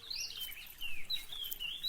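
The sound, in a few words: birds singing in an audio tale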